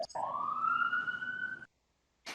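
A short rising siren wail, like an ambulance, is sounded once and holds for about a second and a half before cutting off, followed by a brief burst of noise.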